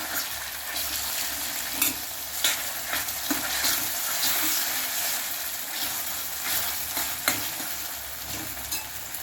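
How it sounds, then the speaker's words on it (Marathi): Garlic-ginger paste sautés with onion and tomato in a hot pan, a steady close sizzle broken by scraping stirs and soft clinks; no one speaks. "यामध्ये मी एक चमचा लसूण अद्रकची पेस्ट घालून घेणार आहे छान परतून घ्यायचं आहे"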